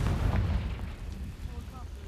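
A Confringo fire spell bursts in Hogwarts Legacy, a heavy low blast at the outset that rolls off into a rumbling decay, with faint magical shimmer near the end.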